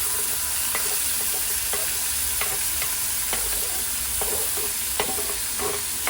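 Onion and tomato fry in a pan for egg bhurji, a steady loud sizzle broken by repeated stirring scrapes of a spatula, with no voices.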